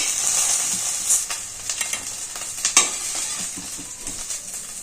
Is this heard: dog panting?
no